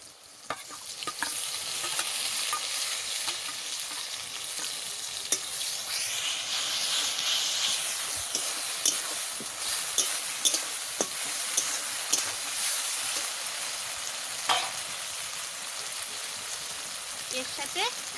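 Crab masala sizzles and fries steadily in a pan as spices go in, with scattered stirring clicks and scrapes running through the broadband hiss; no voice is heard.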